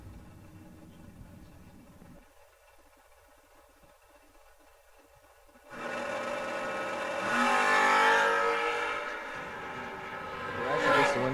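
A station wagon and a Camaro at a drag race: muffled idling at first, then loud engines suddenly roar up, revving hard and building to a harsh, powerful blast that surges again near the end.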